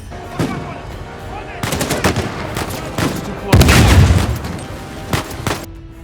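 Video game gunfire from Uncharted 4: A Thief's End during cover shooting: repeated rapid automatic bursts and heavier booming shots, loud and close, with a narrator's voice running over the action.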